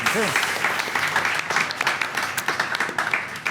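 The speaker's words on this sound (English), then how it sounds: "So if you could please give a round of applause to our wonderful speakers" Round of applause from a conference audience for the speakers, loud and sustained clapping from a sizable crowd, with a brief voice audible at the start.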